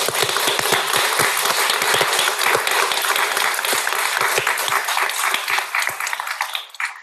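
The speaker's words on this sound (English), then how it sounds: "if we could just please give our celebrants here one more round of applause" Graduation celebrants at a Guiding Eyes for the Blind ceremony in Yorktown Heights receive a dense round of crowd applause that stays steady and full, then thins toward the end.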